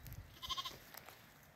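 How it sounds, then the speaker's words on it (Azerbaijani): Sheep and their lambs are let out of the barn into a yard after months indoors; a single short bleat sounds faintly, with little else around it. "qoyunları çıxartdıq həyətə balaları ilə birlikdə"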